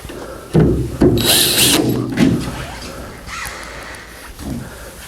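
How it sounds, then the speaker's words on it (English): A power driver whirs in short bursts, driving Phillips head screws into the door of a 1952 Chevy pickup during a door rebuild, with clicks and handling noise between the close runs of the motor. "I'm just going to go ahead and use Phillips head screws here"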